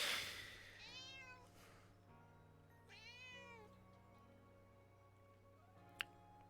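A house cat meows twice in long, rising-and-falling cries close by, with a steady low hum underneath and a single sharp tick near the end.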